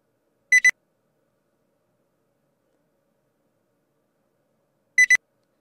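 Two short double beeps from a RaDoTech scanning device, bright and high-pitched, separated by about four seconds of silence.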